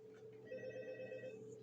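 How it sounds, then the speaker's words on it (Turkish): A telephone rings in the Five Nights at Freddy's 2 video game, a steady electronic trill with buzzing tones and no voices, heard at modest level for under two seconds. "Telefon çalıyor."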